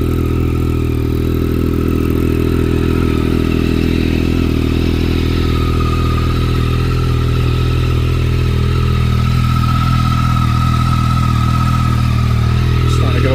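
A Yamaha R9 motorcycle engine idles steadily with a freshly installed aftermarket ECU and a Stage 2 setup, a loud, continuous low rumble with a faint mechanical clatter, close by and unbroken for the whole stretch.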